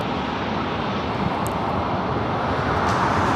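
A United Airlines Boeing 737-900ER airliner arriving at LAX, a continuous broadband engine roar and rushing wind noise, loud and steady throughout with no voices over it.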